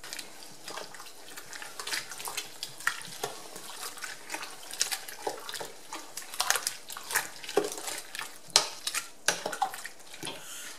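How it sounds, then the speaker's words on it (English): Sugar, spices and vinegar are stirred together in a pot, giving a continuous wet swishing and scraping with frequent small clinks, fairly close and steady with no talk. "putting the sugar in first, the spices, and then pouring the vinegar in, and we'll mix that up and start cooking it."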